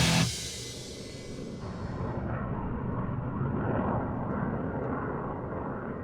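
A steady, broad roar of a jet airplane fills the scene, loud and sustained after a brief sharp onset, with no voices.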